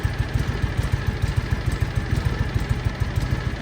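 John Deere Gator 6x4 utility vehicle engine idling while running on one cylinder, a close, loud, uneven chugging beat with rapid irregular firing pulses and clatter throughout.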